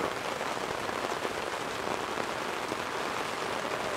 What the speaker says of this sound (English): It is just short of a complete downpour.